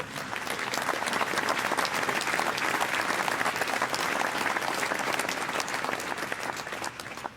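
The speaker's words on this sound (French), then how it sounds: "On peut les applaudir." A group breaks into steady, even applause that holds for several seconds with no break, a dense crowd of clapping hands at moderate volume and no one talking over it.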